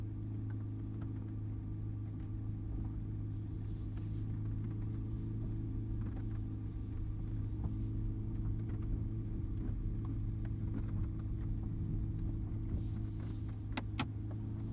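A 2023 Chevrolet Corvette Z06 with a flat-plane V8 rumbles steadily from inside the cabin as it pulls away, a constant low engine drone with faint clicks and no one speaking.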